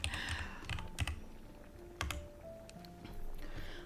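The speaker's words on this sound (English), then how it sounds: "You guys get to hear my clicky keyboard." Short flurries of sharp clacks from a clicky computer keyboard, close by and moderately loud, separated by pauses over a low background hum, with no voices.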